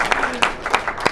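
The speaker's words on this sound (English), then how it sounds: "everybody clap it up" A studio audience applauds at a Taskmaster: Minnesota taping, a short, close burst of clapping with a few sharper claps standing out.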